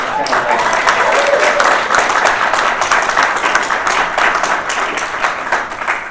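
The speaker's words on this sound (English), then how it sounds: "another round of applause" Audience applause at a live theatre awards event, a loud, dense burst of many hands clapping that stays strong, then gradually thins and fades toward the end.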